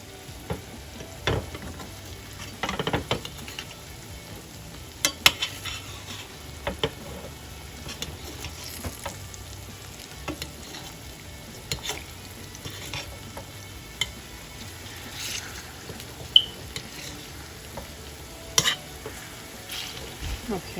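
Plantains frying in oil in a covered pan, a faint steady sizzle broken by occasional sharp clicks and pops.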